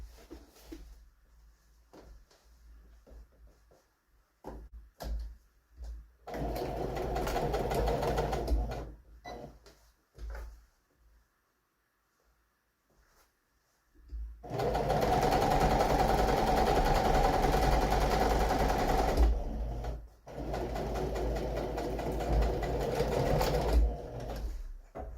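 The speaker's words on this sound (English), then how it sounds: "I am gonna stitch them" A sewing machine stitching two fabric pieces together runs in loud, steady bursts of rapid mechanical whirring, separated by quiet pauses with small handling clicks.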